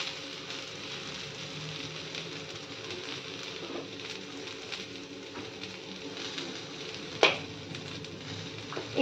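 Round slices of ginger, about an inch and a half across, sizzle in a pan over medium heat, a steady close crackle with a few brief stirring clatters and a sharp knock near the end.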